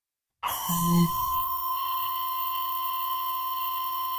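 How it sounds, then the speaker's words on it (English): A phone rings with a sudden electronic tone that starts sharply after a moment of silence, then holds as a steady, fairly quiet beep with a slight shift in pitch early on. "Then her phone rang."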